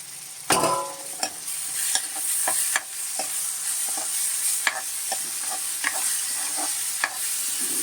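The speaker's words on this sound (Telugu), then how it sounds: "ఇప్పుడు ఇదిగోండి అల్లం వెల్లుల్లి పేస్ట్ ఉంది కదండి, ఇది కూడా వేయించేద్దాం" Ginger garlic paste fries with onions in a pan, giving a close, steady sizzle broken by repeated spatula scrapes and taps, with a sharp clatter near the start and no talking.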